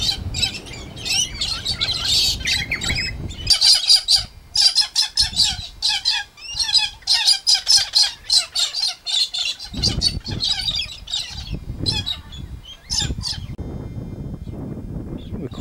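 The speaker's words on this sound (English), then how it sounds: "the birds you can hear are galahs" A flock of galahs near old telegraph station ruins keeps up harsh, raspy squawks and chirps, loud and close, in dense overlapping bursts throughout with no talking.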